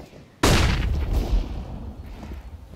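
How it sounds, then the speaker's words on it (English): A flashbang grenade detonates in Counter-Strike: Global Offensive, one sudden loud bang followed by a decaying rumble and ringing tail. "Deploying flashbang."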